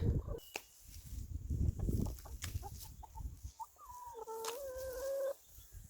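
Hens in a chicken run cluck and murmur nearby over outdoor background noise, ending with a longer, wavering squawk from one bird.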